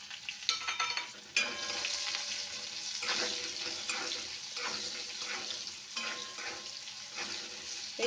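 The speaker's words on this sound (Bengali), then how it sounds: "এগুলো একটুখানি ভেজে নেব ভালোভাবে পেঁয়াজগুলো।" Chopped onions fry in hot mutton fat with a steady close sizzle, broken by a few sharp stirring scrapes and clinks across the pan.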